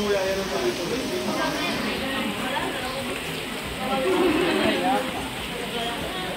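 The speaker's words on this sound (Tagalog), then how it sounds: "Wow, it's raining outside" Rain falls outside during a tour of Vigan, a steady hiss of drops spattering on surfaces, with voices and background chatter underneath throughout.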